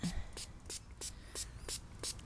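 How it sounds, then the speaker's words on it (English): A quick series of soft spray bursts of baking soda solution onto a tomato plant, about eight short hisses in an even rhythm, close and fairly quiet. "So I'm gonna spray the plant."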